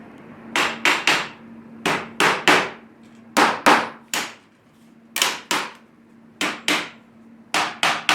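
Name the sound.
hammer tapping slides into notches of CNC frame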